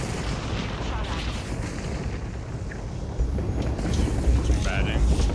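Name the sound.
gunfire in Apex Legends video game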